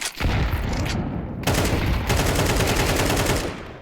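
Dense, rapid automatic gunfire from a Call of Duty match, with continuous loud bursts of shots that briefly drop off near the one-and-a-half-second mark, then resume as sustained fire to the end, with no talking over it.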